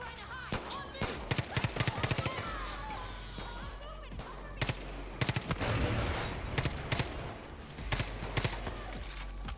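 Gunfire in Far Cry New Dawn, with rapid bursts and volleys of automatic shots cracking repeatedly throughout, loud and dense, with a voice talking over parts of it.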